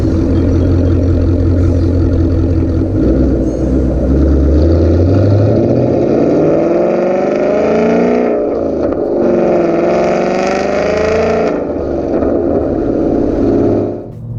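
A car with Roush mufflers and the resonators deleted cruises at highway speed, about 65 mph near 1800 RPM, giving a loud, continuous low exhaust drone with a rising sweep of tone in the middle.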